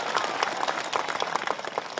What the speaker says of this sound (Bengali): তাকে আমরা সবাই মিলে জোরে হাততালি দিয়ে একবার